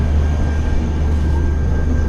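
Steady low rumble and rolling drone from inside a train passing Bina junction, continuous and loud with a faint tonal whine above and no voices.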